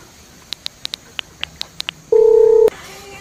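A phone being dialed: nine quick, evenly spaced keypad beeps, then a single sustained ringing tone that cuts off abruptly, followed by faint room noise.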